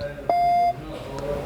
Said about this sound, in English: A beep.